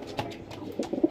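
A Punjabi Malwai pigeon coos softly up close, a few low throaty notes ending in two rounded coos.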